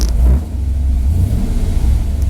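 A Chevy truck engine is revved, producing a loud, close rumbling roar that swells briefly near the start and then settles into a steady idle-like drone.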